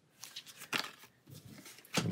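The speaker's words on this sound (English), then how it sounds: "And we'll shuffle these back in our deck." Playing cards from the Pathfinder Adventure Card Game shuffled back into a deck on a table, a few short papery riffles and slides in uneven bursts, close and fairly quiet.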